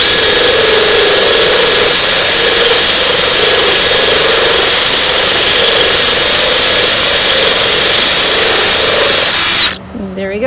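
A diamond drill bit bores a drainage hole through a thick planter, a loud, steady high-pitched grinding whine that holds for about nine seconds and then cuts off abruptly near the end.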